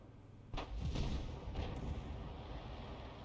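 A tier 7 artillery piece fires in a tank video game, one heavy booming shot with a rumbling tail that fades over a couple of seconds, fairly distant and muffled.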